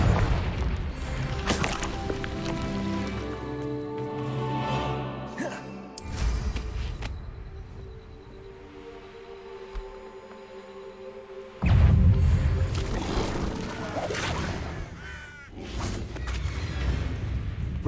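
Confringo blasting spells exploding in Hogwarts Legacy, several heavy booms and crashes spread across the stretch, with quieter gaps and spell effects between the louder blasts.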